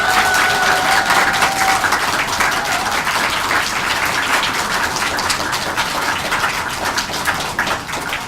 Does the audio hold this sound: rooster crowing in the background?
no